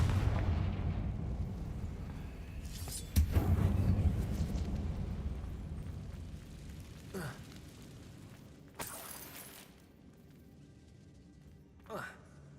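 Blasting-spell explosions go off in the Hogwarts Legacy video game inside a closed mine: a few heavy booming bursts spaced several seconds apart, each decaying into rumble, with a voice nearby.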